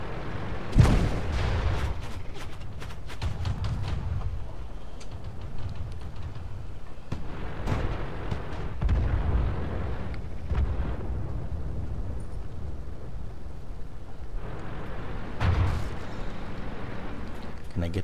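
Tank cannon fire from a T1 Cunningham in a World of Tanks battle, with several booming shots spread across the clip over a continuous rumble and people talking throughout.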